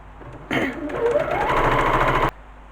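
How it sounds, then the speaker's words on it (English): A sewing machine runs in one continuous burst of just under two seconds, stitching around the corners of a fabric shopping tote bag, close and fairly loud against a quiet room. "Once you've stitched all the way round, leaving the top open"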